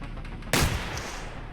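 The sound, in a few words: turret gunfire in the video game Receiver 2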